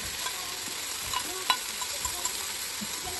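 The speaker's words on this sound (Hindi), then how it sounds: "ये मेरे मसाले हो रहे हैं फ्राई" Spice masala for a fish curry fries in a pan, giving a steady close sizzle with occasional scraping clicks as it is stirred; no one speaks.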